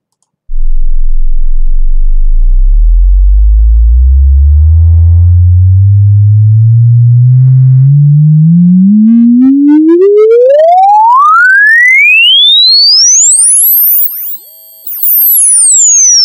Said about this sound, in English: let me slide this all the way up so you guys can actually hear the full range of frequency.